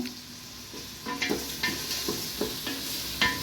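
Chopped onions and tomato with salt sizzle in a frying pan for a fenugreek-leaf dish while a spoon stirs them, giving a steady close hiss broken by repeated rhythmic scraping strokes, with no talking.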